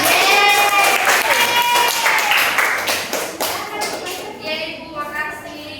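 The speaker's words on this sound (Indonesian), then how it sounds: "Tepuk tangan dulu untuk" A primary-school class claps together, a dense patter of hands that gradually thins out, with voices talking over it.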